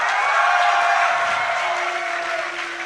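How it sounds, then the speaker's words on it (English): Large esports tournament crowd at DreamHack Summer in Sweden, a loud sustained roar of cheers mixed with booing and scattered applause from a packed hall, continuous throughout. "And some boos from the crowd."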